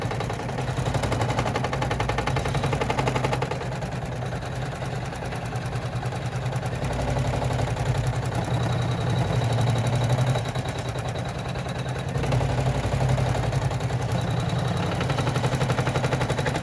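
An embroidery machine stitching a vinyl bag, a close, continuous fast mechanical rattle and clatter with a steady bouncing rhythm and a low motor hum underneath.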